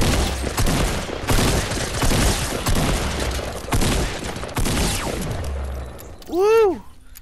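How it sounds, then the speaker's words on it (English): Fortnite gameplay sounds: rapid, sharp pistol shots crack in fast bursts, followed by a swooping chime, all close and prominent against constant game noise. "It's like a pistol or something."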